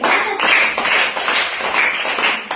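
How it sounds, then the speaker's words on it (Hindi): Schoolchildren in a Hindi grammar class clapping loudly together, a close, bright, continuous burst of hand claps with slight swells, lasting a couple of seconds. "ताली बजाओ जोर से।"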